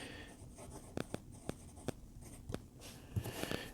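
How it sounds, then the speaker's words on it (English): A Moonman Wancai fountain pen nib scratches softly across paper, with light taps and strokes at an uneven pace. The sound is close and faint. "Very smooth nib, writes well."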